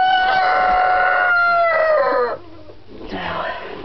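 A broody hen sitting on chicken and duck eggs in a coop gives loud, drawn-out, tonal calls close by, followed by quieter clucking sounds.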